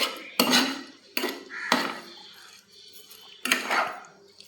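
Tomato sauce and sugar being stirred in a pan for paneer fried rice, heard as four separated bursts of utensil scraping and clatter against the pan, close and moderately loud, with quieter gaps between.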